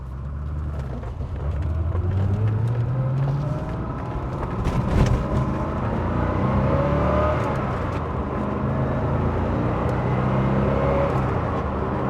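A 1990 Corvette ZR1 engine hums steadily while driving, with rising pitch sweeps as the car accelerates and a brief bump midway, close and continuous throughout.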